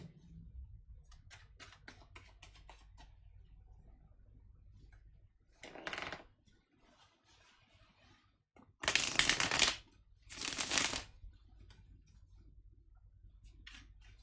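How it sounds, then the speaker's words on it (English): Tarot cards are shuffled by hand, with quick riffling and flicking bursts, two longer loud shuffles near the end, close up in a quiet room with no talking. "Now let me shuffle the cards"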